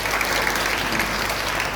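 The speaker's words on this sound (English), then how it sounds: "So please clap for my staff and the headmistress." An audience at a school annual concert and prize-giving ceremony applauds the staff, producing dense, continuous clapping that stays loud and even from start to finish.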